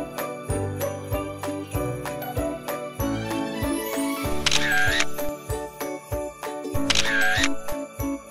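Camera shutter clicks ring out in a regular series of sharp snaps while photos are taken at an American-diner-style set at a Christmas market, with bright chiming tinkles twice over the clicks.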